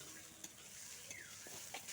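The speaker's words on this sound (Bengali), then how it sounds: "তো এইভাবে কিন্তু নাড়াচাড়া করে গাজরটাকে ভাজতে হবে।" Carrots fry in oil or ghee in a pan while being stirred, a steady faint sizzle with a few soft scraping strokes of the utensil, quiet and close.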